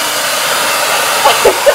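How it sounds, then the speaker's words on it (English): A hair dryer blows with a loud, steady broadband whoosh close by, with a few brief knocks or handling sounds near the end. "Would you rather hold the dryer?"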